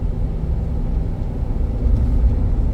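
A 2009 Dodge Ram 1500 pickup truck cruising steadily up a hill, its engine and road noise forming a continuous low rumble heard from inside the cab, with no talking.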